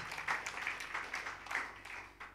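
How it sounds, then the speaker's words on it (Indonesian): A church congregation at a Sunday worship service claps in agreement, a soft, short run of uneven claps at moderate distance. "Yang setuju tepuk tangan."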